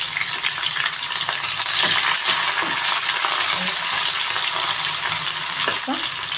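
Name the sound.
onions frying in hot oil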